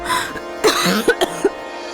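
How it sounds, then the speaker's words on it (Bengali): A short fit of coughing from one person in an indoor drama scene, several harsh bursts spaced irregularly over two seconds, close and fairly loud against a faint steady background hum. "কাশি হচ্ছে।"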